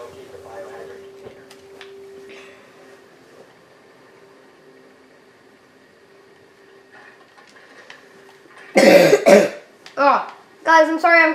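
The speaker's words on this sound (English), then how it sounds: "So if I cough frequently throughout the video, that's because I have a little cold." A person with a cold coughs a few times in quick bursts near the end, loud and close, after a quiet stretch with a faint steady hum.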